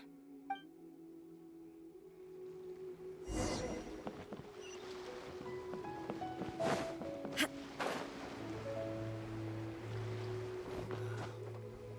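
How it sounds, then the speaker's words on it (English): Calm ocean water laps around a boat in the game Genshin Impact, with steady soft wash and a few sharper splashes and creaks over a low droning engine-like hum, no talking. "Waves are as calm as always."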